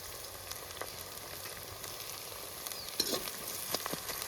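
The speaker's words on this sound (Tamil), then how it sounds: "வெங்காயம் வந்து சூப்பராக வதங்கிட்டு இருக்குது" Onions sautéing with rock salt in a pan for pepper chicken, a faint, steady sizzle with occasional light spoon scrapes and taps, quiet and close with no speech.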